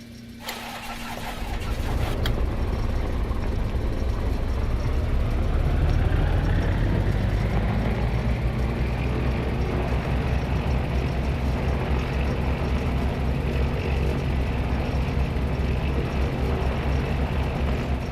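Twin engines of an Aerostar 601P in the X-Plane flight simulator crank and catch, rising into a steady, loud, low-pitched idle drone with propeller hum that continues evenly without talk.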